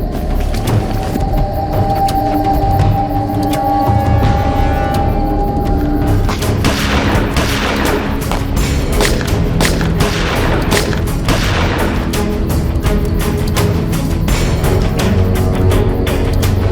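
Rapid gunfire from country-made pistols crackles in bursts throughout a crime drama shootout, sharp loud reports overlapping with booms and clatter and no clear pauses.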